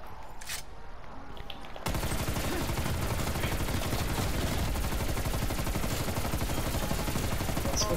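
Rapid continuous gunfire from a shotgun in a zombies video game, bursting in after a quieter opening and pounding on steadily to the end, loud and close.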